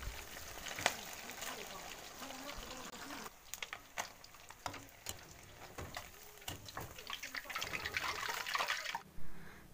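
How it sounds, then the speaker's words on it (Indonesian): Cleaned fish frying in hot oil in a home kitchen, a faint sizzle with scattered crackles and pops that grow busier toward the end. "Kemudian langsung aja mau aku goreng."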